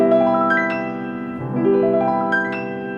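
Lounge jazz piano running a quick arpeggio up and back down, notes blurring into a sustained wash with a low rolling swell in the middle, close and moderately loud, no talking.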